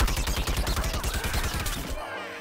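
Rapid Gatling gunfire in the video game Plants vs. Zombies: Garden Warfare 2 rattles in a dense, fast burst of shots before cutting off abruptly.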